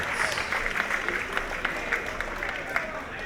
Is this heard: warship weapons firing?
no